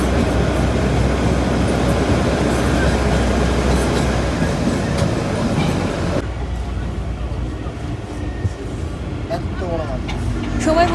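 A train runs along the Shimla railway, heard from on board as a steady rumble and rattle of wagons that drops to a quieter roll partway through. People talk over it.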